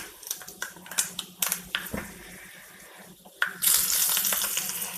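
Dried red chillies crackling in hot oil with mustard seeds and fenugreek during tempering for a Kerala curry, heard as scattered sharp pops and sputters that swell into a loud, steady sizzle toward the end.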